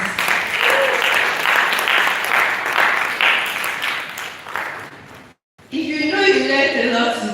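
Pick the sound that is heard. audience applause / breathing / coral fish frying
audience applause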